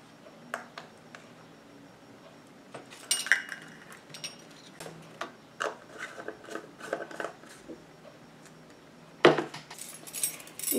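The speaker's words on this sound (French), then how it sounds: "Je prends mes cuillères doseuses" Metal measuring spoons clink and rattle in short irregular bursts, close and fairly quiet, while pigments for homemade cream eyeshadow and concealer are being prepared.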